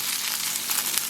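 Bacon sizzles and crackles in a hot pan, a dense steady frying hiss with small pops, close up and continuous with no talking.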